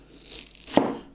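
A single crisp knife cut through an onion at a cutting surface, a brief crunchy slice with a faint crackle afterward, close up and otherwise quiet.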